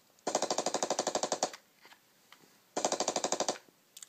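Gunfire in a homemade first-person shooter game played with an Xbox controller: two bursts of rapid, evenly spaced shots, each lasting over a second, separated by a quiet pause with a few faint clicks, no talking.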